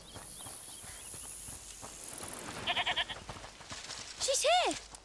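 A goat bleats in A Plague Tale: Requiem, several wavering cries toward the end, the last one loud and close, preceded by soft footsteps and ambient sound.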